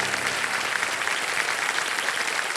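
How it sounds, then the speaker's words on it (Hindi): Steady applause from a game show studio audience, a dense, even crackle of many hands clapping at moderate loudness for the full length without pause. "तालियां बज रहे हैं"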